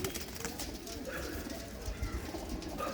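Pigeons of a prized flying breed, including white, black and spotted birds, coo softly in a loft, a low continuous murmur with faint background noise.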